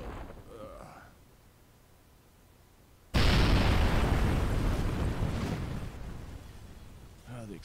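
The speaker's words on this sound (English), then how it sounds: "Ah, the explosions in this game." A sudden, massive blast erupts in Kerbal Space Program after a quiet stretch of faint voices, followed by a long, loud rumbling roar that slowly fades.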